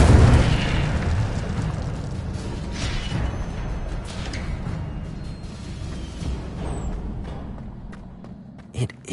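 A fiery Incendio spell blast in Hogwarts Legacy, a loud rushing roar that starts strong and slowly fades over several seconds, ending with a couple of small pops.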